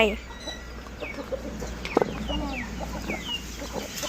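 Chickens cluck and chirp softly against low farmyard background noise, with a brief louder squawk partway through.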